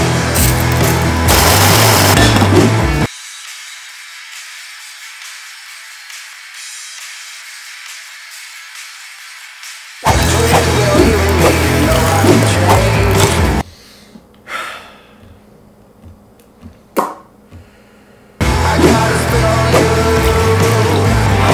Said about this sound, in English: I added a high pass filter to the music